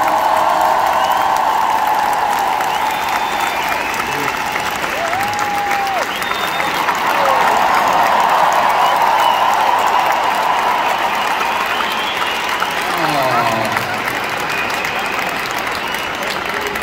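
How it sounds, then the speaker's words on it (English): Large arena concert crowd in Antwerp applauds and cheers loudly and continuously, a dense roar of clapping with whistles and shouts, while a performer's voice and faint music carry over it. "Come on, everybody, give them a round of applause."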